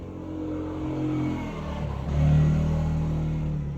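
A motorcycle engine drones nearby and then swells as it passes, with a low, steady rumble that grows louder toward the end and no talk over it.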